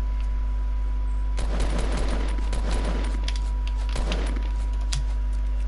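Rapid bursts of gunfire from the Fortnite battle royale game, a dense volley crackling for a few seconds and then a second shorter burst, set over a steady low game hum.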